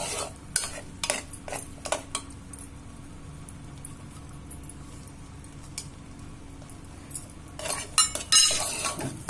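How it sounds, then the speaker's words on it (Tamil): Wheat rava kesari stirred in a pan on low heat, with soft scraping and scattered metallic clinks of a spoon against the pan, louder clatter near the end. "இப்போ சிம்மில் வச்சு ஒரு 2 நிமிஷம் கிளறிட்டு ஆஃப் பண்ணிட வேண்டியது."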